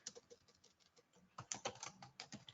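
Computer keyboard typing a search term during SAP ABAP programming: a steady run of quiet, close key clicks with irregular rhythm, growing denser and slightly louder toward the end, no voices.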